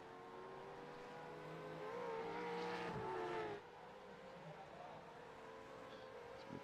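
A race car engine in a sim racing game drones steadily, swells to a louder roaring pass around the middle, then settles back to a quieter hum. The sound is faint and distant overall.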